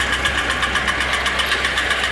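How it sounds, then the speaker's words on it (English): A tractor idles in neutral with a steady engine drone, and a Tar River drum mower's overriding clutch ticks in a quick, even rhythm throughout. "You can hear it. There's some kind of a overriding clutch in there."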